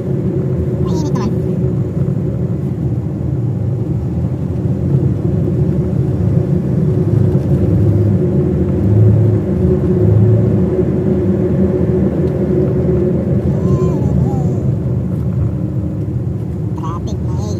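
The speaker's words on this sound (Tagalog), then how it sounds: "traffic noise" Steady road traffic rumbles continuously, loud and close, with engine drone and passing vehicles, while people talk intermittently over it.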